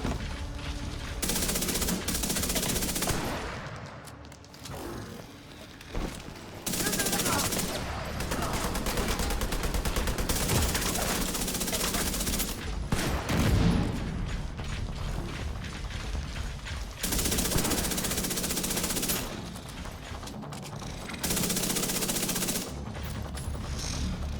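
Sustained gunfire from The Division 2 during a stronghold fight, with dense automatic bursts and rattling volleys filling most of the span, separated by brief pauses.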